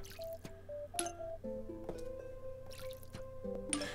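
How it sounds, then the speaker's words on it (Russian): Plants are watered in the Zen Garden of Plants vs Zombies with soft cartoon drips and sloshing water, mixed with short tonal game chimes, falling in an irregular run of splashes at moderate volume with no talking. "Вот так вот я поливаю."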